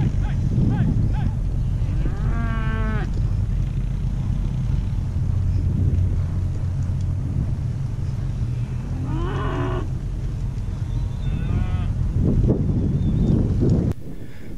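Cattle moo several times at a gathering of a herd, long harmonic calls standing out over a steady low rumble of wind and engine noise, with a couple of calls nearer and louder than the rest.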